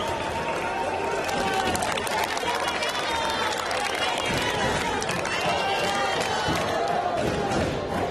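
A Little League World Series crowd at a Mexico versus Canada baseball game roars and cheers continuously, loud and dense, with shouting voices and a commentator talking over the noise.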